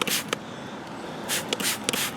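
Bike cleaner is sprayed in several short hissing bursts onto a spinning bicycle rim, close up, with quiet rustling between the sprays.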